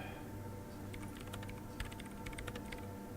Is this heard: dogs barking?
no